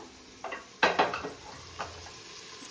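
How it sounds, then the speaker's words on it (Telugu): Onions fry in a pan for egg pulao while a spoon stirs them, giving a soft sizzle broken by a few close scraping, clattering strokes. "ఆనియన్స్ అయితే మ్యాక్స్ ఫ్రై అయిపోయినాయి మంచిగా."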